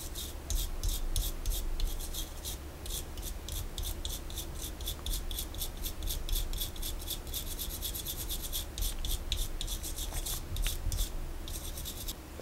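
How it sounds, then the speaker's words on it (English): Metal tweezers lightly scraping paint to chip it on a Gundam model kit, giving rapid, fine, repetitive scratching strokes, close and quiet, steady throughout with no talking. "I came in with the tweezers here and just kind of lightly scraped, not like digging into the paint"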